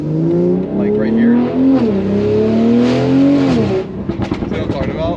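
BMW G42 M240i fitted with a Valvetronic Designs exhaust revving loudly up and down near the microphone, its steady engine drone giving way to a crackle of sharp exhaust pops at the end.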